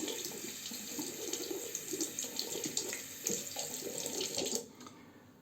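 A safety razor with a matte aluminum finish rinsed under a running tap, a steady splashing stream of water at close range that cuts off abruptly near the end, with no talking.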